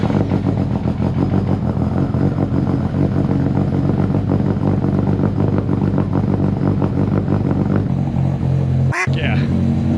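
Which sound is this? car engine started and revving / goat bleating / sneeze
car engine started and revving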